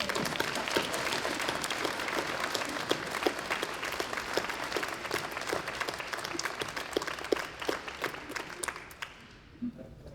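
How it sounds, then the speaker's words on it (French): A crowd at a 2024 New Year's address applauds steadily, dense sustained clapping that fills the room before fading away near the end. "Je pense que nous pouvons les applaudir."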